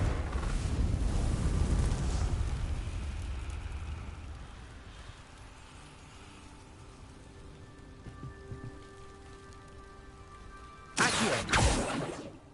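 A Confringo blasting spell explodes in a video game, a deep rumbling boom that slowly decays into a quiet hiss, followed later by a brief sharp burst.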